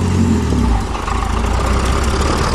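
A Pontiac Fiero V6 engine runs on its first drive with open exhaust stacks, a loud, close, steady rumble with a slight dip in pitch partway through. No voices are heard.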